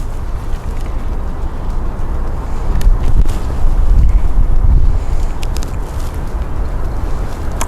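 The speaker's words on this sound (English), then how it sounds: "Wait for a little break in the wind." Steady wind buffeting a microphone outdoors at an archery range while sighting in a compound bow, a continuous low rumble that swells in the middle and never breaks, with no voice over it.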